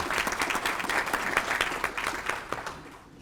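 An audience at a Panhandle Tiger Bay Club event claps in a steady wash of applause for Florida Senator Jack Latvala, fairly distant and moderate, fading out toward the end.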